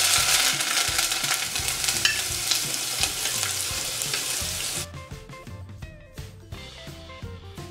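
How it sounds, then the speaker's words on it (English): Garlic, onions and peppers sizzle loudly in a frying pan while being stirred, with scraping strokes over a dense hiss that quiets partway through to a softer crackle with intermittent stirring clicks. "Just give that a stir and let it cook for about 2 minutes."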